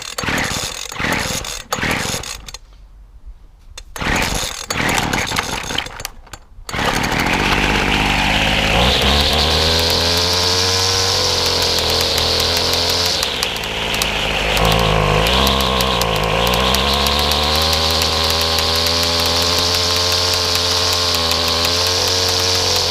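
A McCulloch petrol strimmer on full choke sputters through a few short pulls, then catches and runs steadily at close range, its high buzzing engine note rising and dipping slightly as it settles, a little rough and uneven.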